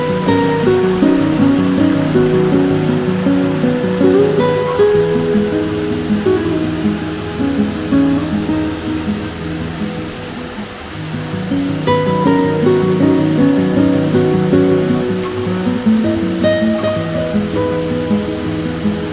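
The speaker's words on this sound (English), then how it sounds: "Talk about a picturesque little waterfall." A small waterfall cascades over rocks in a creek in Namadgi National Park, a loud steady rushing wash that fills the whole stretch with no talk.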